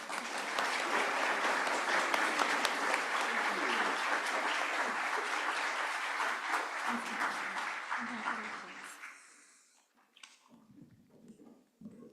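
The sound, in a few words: congregation applauding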